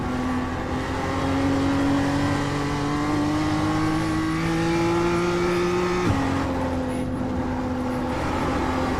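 Race car engine of a BMW M2 in iRacing drones steadily at high revs with a slowly rising pitch, then abruptly drops as the car loses control, continuing loud and close throughout.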